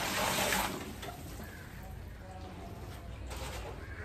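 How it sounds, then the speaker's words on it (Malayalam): Water pours from a hose into a small pond being built on a terrace. A soft, steady splashing stream runs under a person talking, a bit louder at the start. "അപ്പുറത്തുനിന്ന് ഓസ് കണക്കിന് വെള്ളം"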